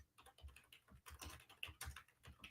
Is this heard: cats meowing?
no